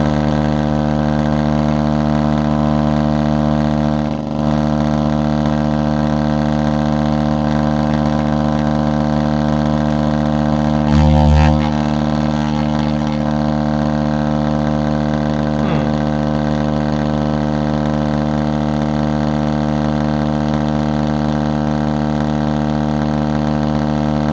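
A vibration separator table for sorting heavy minerals from sand buzzes steadily at about 75 hertz, a loud continuous hum with strong even harmonics throughout and one brief louder burst midway.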